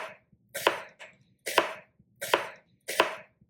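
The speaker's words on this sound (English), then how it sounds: "We cut a lot of onion here" A knife chopping onion on a cutting board in a home kitchen, four crisp, evenly spaced chopping strokes, each with a short slicing lead-in and a sharp knock, close and alone.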